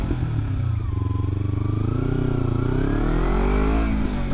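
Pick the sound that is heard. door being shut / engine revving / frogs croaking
engine revving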